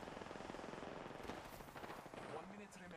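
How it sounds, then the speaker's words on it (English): Rapid automatic gunfire and bursts of shots in a multiplayer shooter match, steady and fairly distant, with a voice briefly audible over the fighting. "they were shooting at someone else, not me"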